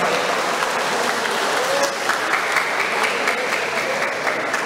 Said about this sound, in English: Let's make a round of applause to the team fighters of Big Heart.